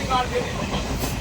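Steady rumble and rattle of a moving train heard from inside a carriage with open windows, with a constant low roar and faint rhythmic clatter.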